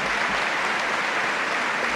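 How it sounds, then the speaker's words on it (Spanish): A crowd applauds at a bowling semifinal at the Severino Prieto bolera in Torrelavega, Spain, dense and steady clapping filling the whole moment without pause. "Mire qué aplausos la gente"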